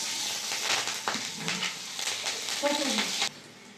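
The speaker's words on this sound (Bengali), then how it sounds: "এই তেলের মধ্যে দিয়ে দেবো কালো জিরে ছেঁড়া কাঁচা লঙ্কা" Nigella seeds and torn green chillies hit hot oil for mustard hilsa. A close, crackling sizzle with a few sharper pops runs throughout, then cuts off abruptly near the end.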